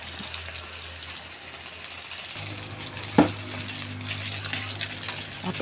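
Flour-coated marinated bangus (milkfish) frying in oil, a steady soft sizzle with a brief louder crackle near the middle, close and continuous without talk.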